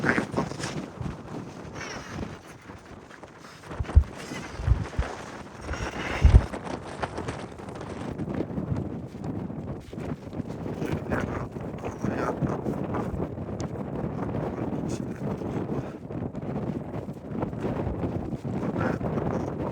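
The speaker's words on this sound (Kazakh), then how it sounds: "Желдің екпіні қатты бұл жерде." Strong wind on a hilltop at Otpan in Mangystau, Kazakhstan, during the Amal festival, gusty rumbling buffets against the microphone throughout with a few sharp thumps early on.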